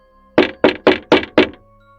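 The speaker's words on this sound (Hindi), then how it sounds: "तब उसके कमरे की खिड़की को किसी ने खटखटाया।" Five firm knocks on the window of a woman's room, evenly spaced and close, each a dull hollow thud standing alone against a quiet background.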